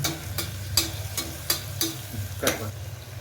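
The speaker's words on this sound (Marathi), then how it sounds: "आता आपण मसाले एकदा तेलामध्ये परतून घेऊया" Spices fry in hot oil for veg pulao, a soft low sizzle punctuated by a series of sharp spatula taps and scrapes against the pan, close up and fairly quiet.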